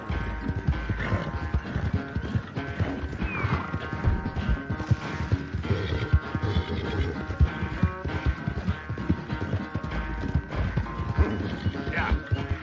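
A horse gallops in a race in Red Dead Redemption 2, its rapid, continuous hoofbeats drumming close and loud throughout, with a brief whinny and faint voices in the background.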